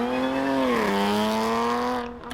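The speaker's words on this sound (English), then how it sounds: "this supercharged Whine right here, elite" A supercharged Mopar engine gives off a loud, sustained, close whine with a strong tonal pitch that dips briefly, then holds steady before fading at the end.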